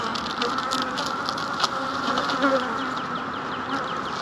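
Continuous droning buzz of a crowd of honey bees at a hive in mid April, close and even, with light tapping and crackling textures scattered through it.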